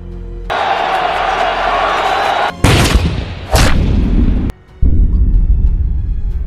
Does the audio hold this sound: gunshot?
yes